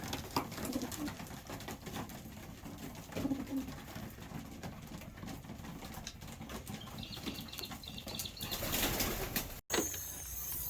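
Racing pigeons coo softly while wings flap and flutter in bursts, the birds shuffling close by in a confined basket.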